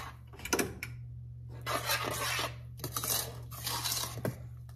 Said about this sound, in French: Mélanger au feu moyen.